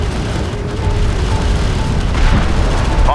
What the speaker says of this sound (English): Hostile strike craft down.